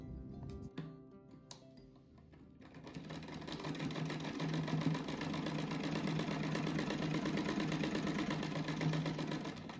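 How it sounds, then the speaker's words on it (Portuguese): A sewing machine stitching fabric for a rug: a few brief stops and starts, then a continuous fast, even motor whir with rapid needle clatter running close and loud to the end. "Eu vou costurar esses dois primeiro, depois coloco o outro ali."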